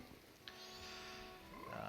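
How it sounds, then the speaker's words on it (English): A frog croaks in the video game The Legend of Zelda: Majora's Mask, a faint short croak against soft game music with sustained tones. "Frog."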